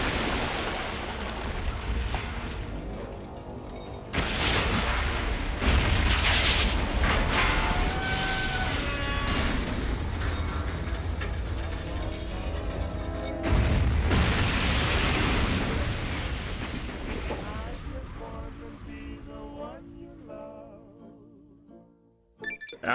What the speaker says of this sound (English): plant the bomb on it, and blow up the whole base